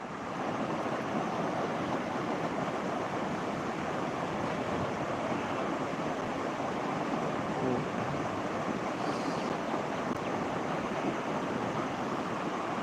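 Floodwater of a swollen river rushes in a steady, loud broadband roar that holds unbroken throughout, close and continuous, with faint voices of onlookers barely present beneath it.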